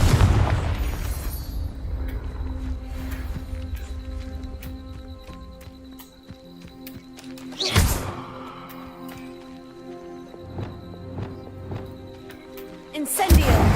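A Confringo blasting curse explodes in Hogwarts Legacy, a sudden loud boom near the middle and another sharp blast at the end, over a low rumbling game background with scattered clattering.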